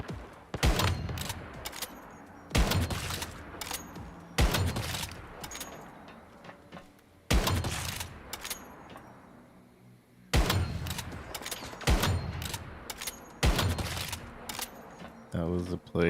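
Gunfire in the survival shooter Once Human: loud, sharp bursts of shots repeating every couple of seconds, each cracking out and trailing off into a ringing decay, with brief pauses between volleys.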